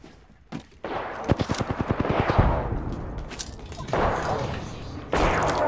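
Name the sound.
gunfire in video game Apex Legends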